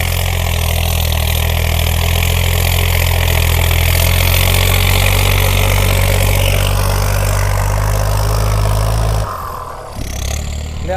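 A tuned Honda EF car engine runs hard in third gear, giving a loud, steady droning roar that drops off abruptly near the end as the throttle closes.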